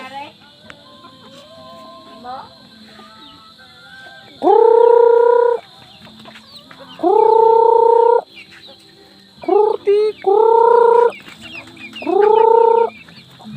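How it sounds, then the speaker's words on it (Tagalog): Chickens, including a rooster, clucking and calling in loud repeated bursts of about a second each, with quieter background clucks between them outdoors. "Damo dia manok."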